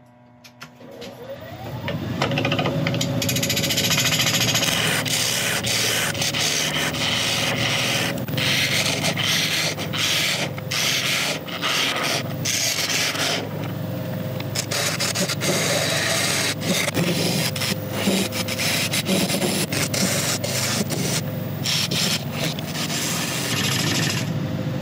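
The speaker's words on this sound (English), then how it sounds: "we can start sanding." A brownheart wood turning spins on a lathe while being sanded, a steady close scraping rub over the motor's continuous hum, starting up after a brief quieter moment and running on without talk.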